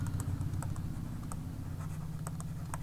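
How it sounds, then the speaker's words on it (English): A pen scratches out a word during a lecture in short, quick strokes with soft taps, close and faint over a low background hum. "so we'll write down"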